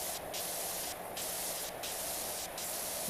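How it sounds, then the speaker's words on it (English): A pressure washer in PowerWash Simulator 2 sprays in a steady hiss, with four short bursts of brighter spray pulsing over the continuous stream, close and alone. "I'm going to try to spray this without soap on the top here"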